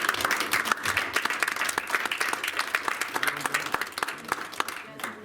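Sustained applause from an audience at a parish informational meeting, dense clapping filling the room for several seconds before thinning out near the end.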